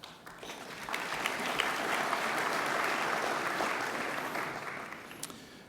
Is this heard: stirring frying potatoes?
no